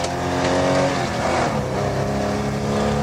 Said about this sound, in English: Roy Dixon's at the wheel of the Zephyr when a mere Volvo 544 dares to overtake, with John Handley driving it.